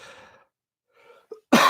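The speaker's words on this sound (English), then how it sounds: "I still have a cough left over from pneumonia" A single sharp, loud cough from a man recovering from pneumonia bursts out near the end, after a few words of speech, a pause and a small throat sound.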